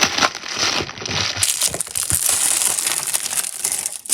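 Plastic shopping bag crinkling and crumpling up close as newly bought comics are unpacked, a steady rustling and crushing texture for about four seconds with no talk.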